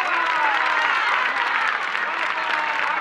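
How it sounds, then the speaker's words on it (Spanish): A theatre audience at a tribute to Lola Flores gives Paquita Rico a dense, steady ovation of clapping that fills the whole stretch at an even, loud level. "Muchas gracias por esos aplausos"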